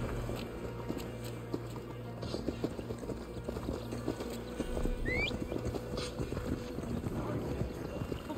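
Horse hooves clip-clopping in Assassin's Creed Valhalla, a steady rapid rhythm of hoofbeats over low game ambience and background effects, with a brief faint voice.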